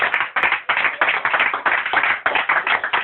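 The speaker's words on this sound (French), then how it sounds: "On acclame très très fort le Seigneur." A church congregation claps loudly in rhythmic bursts for the Lord, a dense wash of many hands sounding close and continuous with brief dips between rounds.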